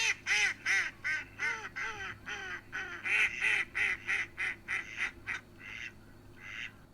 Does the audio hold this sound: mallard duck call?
yes